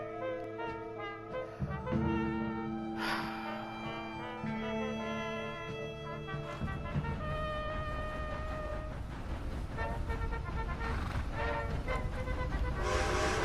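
A train passing through a ranch area in Red Dead Redemption 2, with a horn sounding in sustained tones, rumbling wagons and clattering wheels that build and roll past over several seconds.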